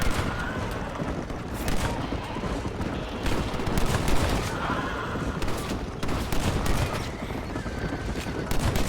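Rapid gunfire from the Red Dead Redemption video game, a dense, continuous barrage of shots with loud cracks piling over each other throughout, with a faint voice briefly mixed in.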